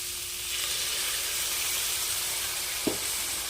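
Snake gourd frying in a pan sizzles steadily after a little water is added, a broad hiss with a brief clink of a utensil near the end, no talking.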